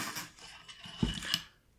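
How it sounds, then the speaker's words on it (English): Bolt mechanism of an FN SCAR 17 rifle being handled, giving a couple of faint, brief metallic clicks in a quiet room. "Now we'll take a look at the bolt mechanism."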